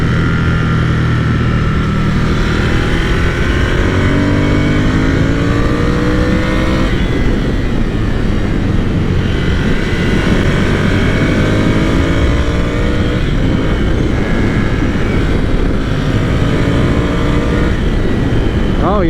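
Ducati Scrambler Cafe Racer motorcycle ridden at speed, loud continuous engine drone with rising and falling revs through gear changes, heavy wind roar throughout, no clear talking.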